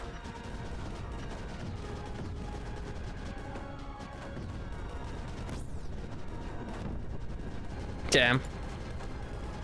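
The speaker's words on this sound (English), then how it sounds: "It's popping a sniper down right here to take out all of those eggs." In the strategy game Creeper World 4, a sniper fires at eggs. Faint shots and bursts sit over a steady game backdrop, with one brief loud crackling burst near the end and someone speaking briefly.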